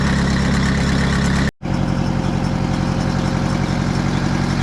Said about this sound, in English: So here the mill is starting to warm up, starting to run better.